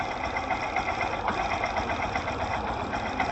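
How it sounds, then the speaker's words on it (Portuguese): A car's clutch kit heard through a Phillips screwdriver used as a stethoscope on the engine: a steady, close mechanical whir and clatter, continuous and even throughout. "O som, né, do kit embreagem, certo?"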